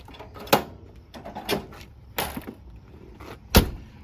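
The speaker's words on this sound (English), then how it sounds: "Go ahead, lock your doors." Camper doors being shut and locked, several separate sharp thuds and latch clunks spaced a second or so apart, close by with no talking.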